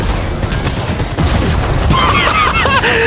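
Rapid gunfire from a Fortnite weapon in a creative-mode match, loud bursts layered with game effects and chiming pickup tones, while a player talks over the action.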